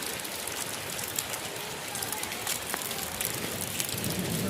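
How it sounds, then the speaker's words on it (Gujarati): Heavy rain pours steadily, as it has since morning, with water pooling everywhere; a dense, even hiss fills the scene close by and stays constant with no voices. "વરસાદ સવારનો ચાલુ જ છે"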